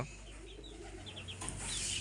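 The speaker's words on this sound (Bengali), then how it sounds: "চারটি গলা ছিলা মুরগি আনছি দেখতে পাইতেছেন তিনটা মুরগি একটা মোরগ" Naked-neck chickens, three hens and a rooster, cluck softly on a farm in winter, a few short close calls over a low steady background hum, with no talking.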